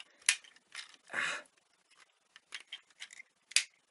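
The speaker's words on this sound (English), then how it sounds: "I'm gonna have to take the scissors." Several short crisp snips and clicks, one longer rasping cut in the middle, as scissors work through stiff plastic of a Transformers toy close up.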